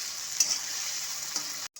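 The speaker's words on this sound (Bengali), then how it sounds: "লবণের সাথে সমস্ত পেঁয়াজ রসুন মাখানা ভালো মতো করে একটু ভাজা ভাজা করে নেব।" Onion, garlic and makhana (fox nuts) fry with salt in a pan over high heat, a steady bright sizzle running throughout with a brief stir click partway, alone and close, cutting off just before the end.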